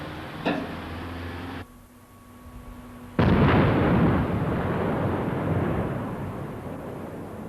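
Rock blasting at a quarry supplying rockfill for the Randenigala dam: a sharp early pop and a short lull, then a loud, heavy blast roar that rumbles on steadily to the end.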